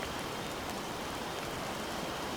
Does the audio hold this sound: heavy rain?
yes